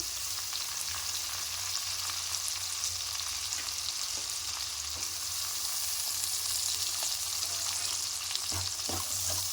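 Finely chopped onions fry in a pan for a cauliflower and egg curry, giving a steady, close, dense sizzle that runs unbroken, with a few faint clicks of stirring near the end.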